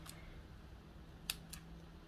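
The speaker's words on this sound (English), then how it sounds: "or you can just take and snip" Scissors snip through paper craft pieces, two or three short, crisp cuts spaced apart against a quiet room hum with no voices.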